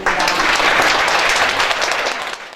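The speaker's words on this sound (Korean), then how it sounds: "뜨거운 박수로 응원해 주시기 바라니다" Warm, loud applause from the audience at the 10th anniversary ceremony of the Korean Flower Tea Association, a thick burst of many hands clapping that holds briefly and then tapers off to silence.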